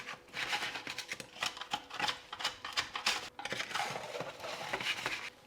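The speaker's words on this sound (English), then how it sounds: "I'm just going to kind of stir these potatoes a little bit. Turn them over." Roast potatoes stirred and turned in a metal oven tray, with quick scraping and clattering of a utensil against the tray in irregular bursts, close and fairly quiet.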